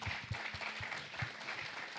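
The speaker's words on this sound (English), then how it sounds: "Can we just get a round of applause for James?" A round of applause from an audience at a founders' customer experience event, with a few louder individual claps standing out in the steady wash of clapping.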